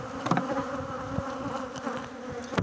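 Honey bees swarm around an opened hive during frame handling, a dense, continuous buzz close by that holds steady throughout with slight swells in intensity.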